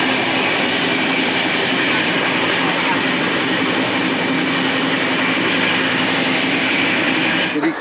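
The 15661 Ranchi Kamakhya Express, an Indian passenger train, rumbles past as a loud, steady roar of wheels and carriages that holds for about seven seconds before cutting off abruptly.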